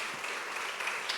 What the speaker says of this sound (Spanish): Dale un aplauso fuerte al Rey de Reyes.